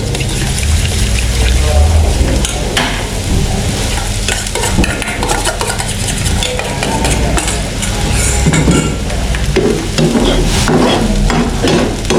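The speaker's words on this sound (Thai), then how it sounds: "ตามด้วยไข่ชาตีไว้ลงไปเลย" Beaten eggs poured into a hot pan, then frying with steady sizzling and repeated scraping stirs, loud and close throughout, with no speech.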